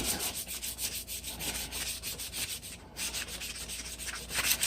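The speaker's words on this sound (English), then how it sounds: "I'm just going to go ahead on and just buff that up to a shine" Hand sanding a rusty hatchet head with 220 grit sandpaper, a close, steady scratchy rubbing in quick back-and-forth strokes, fairly even in rhythm with a brief pause midway, and no talking.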